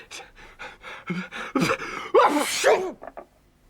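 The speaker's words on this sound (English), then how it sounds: "I've just sneezed away the evidence." A run of short panting breaths builds into a loud, drawn-out sneeze, followed by a couple of small sniffs, close up.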